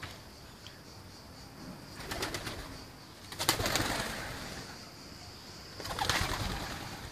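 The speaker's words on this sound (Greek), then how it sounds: "Περιστέρια φεύγουν από εδώ και από δεξιά και αριστερά." Pigeons in an old abandoned tower coo softly and burst into flight in several flurries of flapping wings, moderately close and without any talking.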